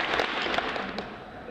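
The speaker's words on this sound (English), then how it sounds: "Let's give these cadets a round of applause." Faint clapping from an audience at a cadets' promotion ceremony, steady through a short stretch and heard at a distance.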